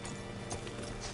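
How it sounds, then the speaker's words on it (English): Hooves of a horse in Red Dead Redemption 2 clip-clop steadily at a walking pace, fairly close, with a low ambient hum underneath and no voices. "Hitch your horse up here."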